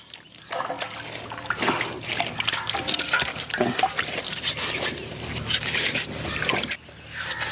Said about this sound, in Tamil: அடுப்பை வைக்கிறதுக்கு நம்ம பொங்க வைக்கிறதுக்கு செங்கலை கழுவி வச்சுக்கலாம்